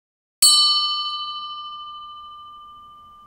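A single strike on a sculpted bell rings out in a clear, bright peal, recorded close with two microphones. One sharp onset is followed by a long, pure tone that slowly fades over several seconds.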